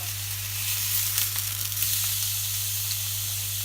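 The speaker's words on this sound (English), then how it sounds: "you just want to sear it on each side for a couple of seconds" Steak searing in a hot pan, a loud, steady close-up sizzle and hiss that holds evenly throughout with no talking.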